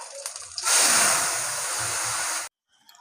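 Thick vegetarian raw jackfruit curry with drumsticks and potato is poured out in one steady wet, slushing stream lasting about two seconds, close and fairly loud, then it stops abruptly into near silence.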